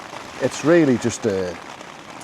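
Heavy rain falls outdoors in the Lake District, making a steady broadband hiss beneath someone talking close by.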